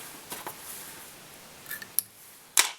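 Scissors snip fly-tying inner tube material at a vise, giving a few faint, close, sharp cuts and clicks spaced across a quiet background.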